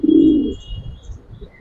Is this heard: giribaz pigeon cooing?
yes